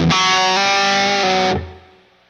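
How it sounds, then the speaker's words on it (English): A sustained electric guitar chord through a Line 6 POD HD500 classic distortion model rings loud and saturated for about a second and a half, then cuts off abruptly into a fading tail. "now the classic distortion."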